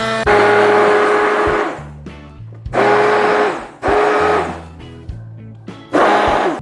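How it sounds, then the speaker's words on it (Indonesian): Hand blender pureeing pineapple for pineapple tart filling, run in loud whirring bursts of about a second each, separated by short pauses, with no talking. "Ini saya pakai hand blender."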